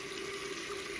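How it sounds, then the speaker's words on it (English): A tap runs to wet a cleaning brush used for ostomy tubing, giving a brief, steady, soft rush of flowing water. "So let's turn the water on"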